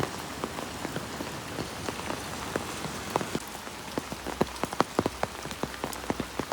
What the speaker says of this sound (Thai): เพราะว่าฝนตกหนักในมื้อนี้เนาะ